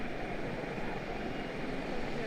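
A loaded airliner taking off from runway 1 Center at Washington Dulles, a steady broad engine roar holding even and fairly loud throughout, with no pauses.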